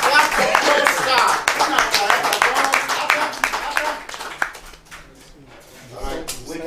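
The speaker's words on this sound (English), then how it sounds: "Can you clap for Nnl, please?" Audience at an NNL Super 8 event clapping in a dense burst of applause that thins and fades out midway, followed by scattered quieter sounds and a brief final rise, with voices mixed in.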